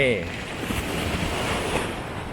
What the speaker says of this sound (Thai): ด้านหลังเป็นทะเล